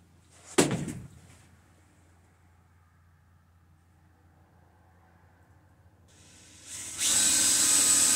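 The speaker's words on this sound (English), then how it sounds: "So I'll just pre-drill some holes." A sharp knock, then near silence, before a power drill whirs up and runs loudly and steadily at close range, pre-drilling holes in wood.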